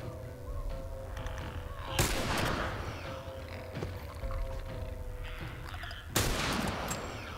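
Gunfire crackles in The Last of Us, two sharp loud shots bursting out about four seconds apart over a low, steady background rumble, with faint scattered cracks between.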